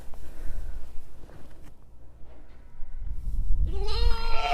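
A newborn lamb at a farm during lambing season lets out a loud, wavering bleat near the end, after a few seconds of quieter rustling and low background noise.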